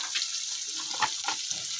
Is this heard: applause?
no